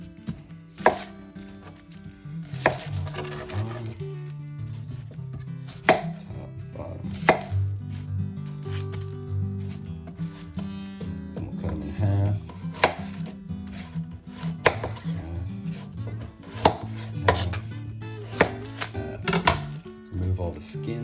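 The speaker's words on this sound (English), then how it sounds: "So I'm gonna start with these shallots. I'm just gonna julienne these." A knife chopping shallots julienne-style on a cutting board, quick irregular taps and knocks throughout, heard alongside background music and some talking.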